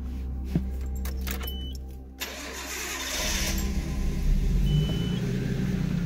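A Nismo Nissan Skyline R32 engine cranks and fires up, heard from inside the car, with a few clicks and keys jangling first, then the idle settles into a steady, rumbling hum.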